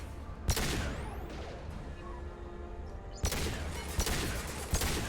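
Gunfire in Mass Effect 2 rings out as a few sharp, loud shots, one early and a quick cluster near the end, over a steady background hum of game noise.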